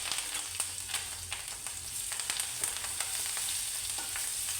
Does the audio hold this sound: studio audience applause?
no